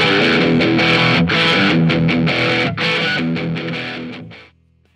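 Fender Mod Shop Telecaster with a channel-bound neck, played through a distorted tone on the bridge pickup: loud, sustained chords with a few strummed attacks that ring out and then stop abruptly, with no talking.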